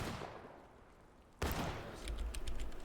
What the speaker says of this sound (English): Good shots, Lucian.